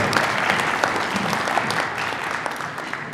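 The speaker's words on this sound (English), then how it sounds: "Let's give our fifth grade students another round of applause," A room of parents and guests applauds fifth grade students at an elementary school DARE graduation, a brisk, sustained patter of many hands clapping at close range without talk.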